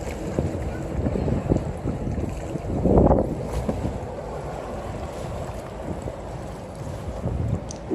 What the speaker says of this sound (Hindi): ये गंडोला राइड बेसिकली बोट की तरह, बल्कि एक बोट ही है